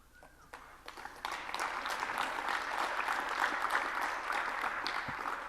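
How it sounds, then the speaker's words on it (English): Dense, steady applause from a large conference audience at a technical keynote, rising quickly after a brief lull and holding sustained across the room with no voices over it. "thank you for clapping"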